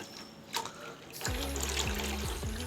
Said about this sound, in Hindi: इसके साथ ही हम इसमें शामिल करेंगे अपनी मज़ेदार सी खट्टी सी लस्सी